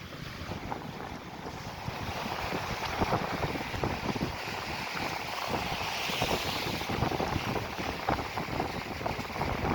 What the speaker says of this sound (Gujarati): અને મોજા વધી રહ્યા છે